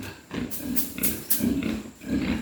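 Native pigs, some not pure white, grunt and snort repeatedly in a series of rough, close bursts with short pauses between them.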